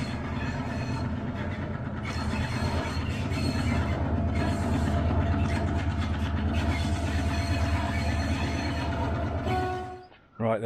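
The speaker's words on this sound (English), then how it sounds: "Train is now approaching." Train approaching a station platform in Ella, Sri Lanka, a loud, sustained rumble of rolling rail wagons with rhythmic wheel clatter and faint squeals, steady throughout before cutting off abruptly near the end.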